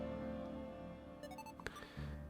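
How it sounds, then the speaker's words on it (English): A telephone rings in the Pokemon Tectonic fan game, a brief burst of electronic beeping tones rising over steady background game music. "someone answer the phone."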